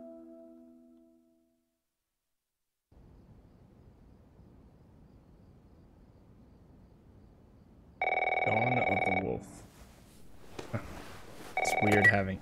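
A telephone rings in a quiet house in The Last of Us, two loud bursts of ringing separated by a pause, following a low hum and faint background noise.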